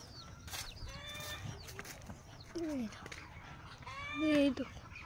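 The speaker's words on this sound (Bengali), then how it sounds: "মুরগি।" Chickens cluck and squawk in a rural homestead yard, a few short bursts of calls heard fairly close amid soft outdoor background, with people talking nearby.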